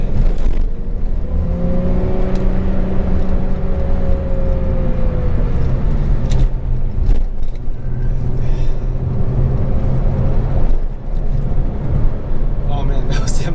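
Toyota Tacoma 2WD X-Runner pickup driving down a downhill on-ramp, steady road and engine rumble throughout with a rising tonal whine early on, heard from inside the cab under continuous talking.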